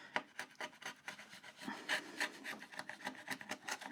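A hand-held wood chisel pares a rebate in timber: slow, steady scraping and rasping strokes close by, with no talking.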